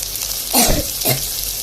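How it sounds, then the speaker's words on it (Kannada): Onion and tomato frying in a pan for oggarane rice give a steady close sizzle, with two brief louder bursts as the pan is stirred. "ಈರುಳ್ಳಿ ಅಲ್ಲಿ ತನಕ ಚೆನ್ನಾಗಿ ಫ್ರೈ ಮಾಡ್ಕೊಬೇಕು"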